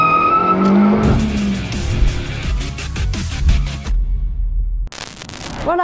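A Suzuki Swift doing a small burnout on the road, engine revving hard with a loud, squealing screech of spinning tires, then a short gap and a second quick burst of tire squeal.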